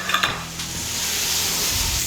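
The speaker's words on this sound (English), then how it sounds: "So we're going to let this guy go ahead and saute for just a few minutes." Chicken sautés in a pan over medium heat, a continuous close sizzle that opens with a few brief clatters of stirring or pan handling.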